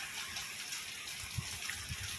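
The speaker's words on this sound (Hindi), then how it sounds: "पानी चल रहा है" Rainwater runs after the first rain in about a year in Abu Arish, Jazan, Saudi Arabia, a steady, faint, broad rushing wash with no talk over it.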